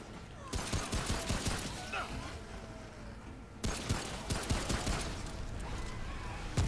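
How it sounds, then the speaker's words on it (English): Explosions and heavy gunfire from the video game Remnant: From the Ashes, loud dense bursts of blasts and rapid shots filling the clip, with a fresh surge of detonations partway through. "what just exploded?"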